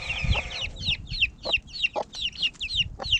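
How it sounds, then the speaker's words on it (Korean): Chicks peep in rapid, repeated high chirps while chickens cluck low underneath, the calls close by and overlapping. "결국 크리미가 무서워서 병아리들은 모두 닭장 안으로 들어가 버렸다"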